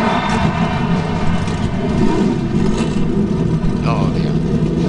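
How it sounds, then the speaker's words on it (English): Several NASCAR stock car engines fire up and rev at Daytona International Speedway, a dense, continuous throaty roar that holds steady throughout, with a public-address voice talking over the engines. "Gentlemen, start your engines."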